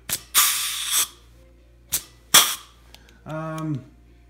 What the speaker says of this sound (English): I just got to joggle the flange on the next one with my pistol grip.